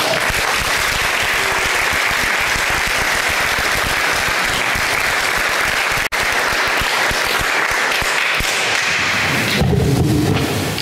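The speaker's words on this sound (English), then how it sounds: "let's greet him with the way that we greet all of our guests, with a nice round of applause" A church congregation gives a guest speaker a long, loud round of applause, a thick continuous roar of many hands that holds steady, then a few faint words emerge at the very end.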